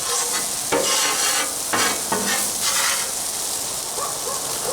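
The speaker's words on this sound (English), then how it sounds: "scrape those extra onions" Onions sizzle steadily on a hot griddle while a metal spatula scrapes across the surface in several short, loud strokes, cooking for Oklahoma onion smash burgers. No voices.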